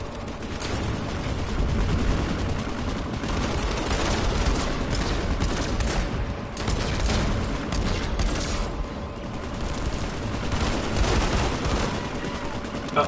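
Gunfire in the video game Planetside 2 on PS4: dense, continuous bursts of automatic weapon fire and distant booms rolling on without pause, with a player's voice talking over the battle at times.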